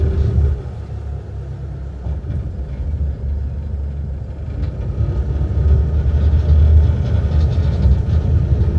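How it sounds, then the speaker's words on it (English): The high-torque engine of a Nimbus T11 boat drives a big propeller, giving a steady, deep rumble that swells a little louder toward the end, with no voices over it. "you got a lot of power from this high torque engine with a big propeller"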